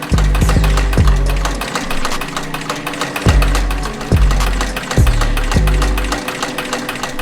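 A Techsew 5100-SE industrial sewing machine winds thread onto its bobbin spindle with a loud, steady mechanical whir and rapid rhythmic knocking, broken by a few heavier thumps, close by with no talk.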